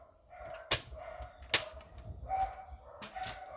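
Dogs in a house bark at someone outside the front of the home, with two sharp loud barks followed by lower grumbling yips and whines, fairly close and with no talk.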